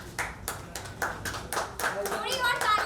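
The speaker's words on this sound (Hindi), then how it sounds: "Clapping everybody." An audience at a song launch event claps in scattered bursts, loud, close claps mixing with chatter and voices speaking over them.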